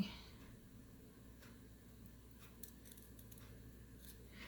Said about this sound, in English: And I'm just going to cut out my square by going boom.